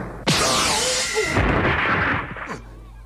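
Yusuke's spirit gun blast fired from his index fingertip in the anime Yu Yu Hakusho, a sudden loud booming burst that rumbles and fades over a few seconds.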